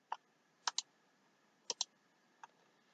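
A computer mouse clicks quietly and close by in a sparse pattern: a single click, a quick double click, another double click, then one last single click.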